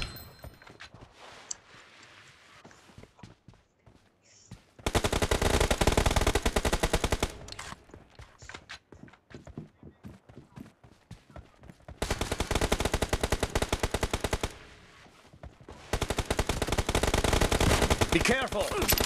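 Dense bursts of automatic gunfire from the video game PUBG, loud rapid volleys in several long stretches separated by quieter gaps with scattered single shots.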